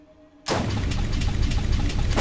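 In the video game Borderlands, a sudden loud burst of gunfire and explosions starts and keeps roaring as a dense, continuous barrage without pause.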